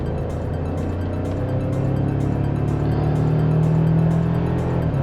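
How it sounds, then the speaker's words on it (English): The four-cylinder engine of a 2024 Toyota Tacoma SR5 4x2 pickup drones steadily and gradually climbs in pitch as it accelerates, heard from inside the cab. "This 4-cylinder engine's got some nice power."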